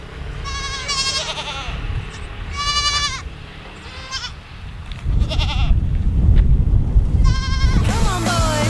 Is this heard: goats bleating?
yes